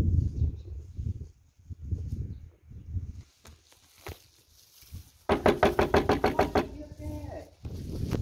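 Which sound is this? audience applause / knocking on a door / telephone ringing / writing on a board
knocking on a door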